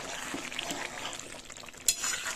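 A spoon stirs a vegetarian curry of young jackfruit and peas in a pan after ghee and garam masala are added. Soft scraping and light clinks sound against a faint sizzle, with one sharper clink near the end and no speech.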